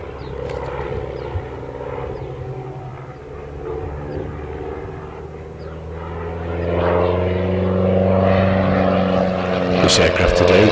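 A propeller aircraft flies a display at the 1999 Breighton airshow: a loud engine drone with steady harmonic tones that rises and grows louder toward the end, with a commentator talking over it.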